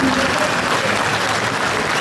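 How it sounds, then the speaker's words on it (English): A crowd at the Motorcycle Live show applauds three British motorcycle world champions with dense, steady clapping that stays loud and even throughout. "A big, big round of applause for these 3 guys."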